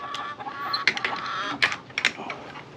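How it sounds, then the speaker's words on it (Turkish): A hen squawks and clucks in several loud, sharp bursts, fairly close, with short pauses between calls. "O tavuk biraz önce kızdım ya bas bas bağırıyor."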